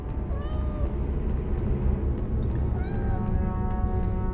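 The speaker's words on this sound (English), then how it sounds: "Enough sympathetic meowing." A kitten in the Harry Potter and the Philosopher's Stone PS1 video game meows repeatedly over steady game background sound, its thin, rising cries coming in several separate bursts.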